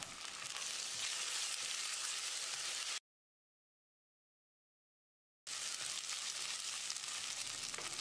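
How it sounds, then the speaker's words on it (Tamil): Three slit green chillies and a tablespoon of ginger garlic paste sizzling in hot oil, a steady bright crackle, with a sudden silent gap in the middle before the frying resumes. "3 பச்சை மிளகாய் நீளவாக்கில் நறுக்கினது, 1 டேபிள் ஸ்பூன் இஞ்சி பூண்டு விழுது சேர்த்து பச்சை வாசனை போகிற அளவுக்கு ஃப்ரை பண்ணிக்கலாம்"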